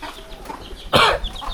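Farmyard chickens kept apart from pigeons as they are fed paddy grain, hungry at the end of the day: one short, loud cluck bursts out near the middle over a quiet background, with no talk.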